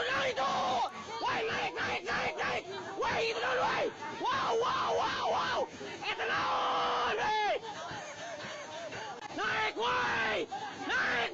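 Shrill, frantic screams and yells from several voices near a cave waterfall pile on top of each other almost without pause, loud and close over a steady rushing background.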